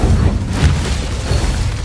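The Incendio fire spell in the video game Hogwarts Legacy bursts out as a loud, dense fiery roar with low booming rumble, sustained across the whole short stretch without pause.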